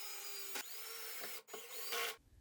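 A power drill drives pocket hole screws into wood, with a steady whining motor broken by short pauses and louder bursts as the screws seat, close and prominent.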